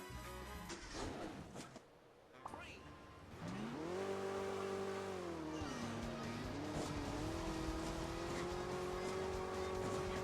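A car engine in the mobile game Hill Climb Racing 2, upgraded once, revs up into a loud sustained drone that rises and dips in pitch as the vehicle drives, following a short stretch of clatter and speech.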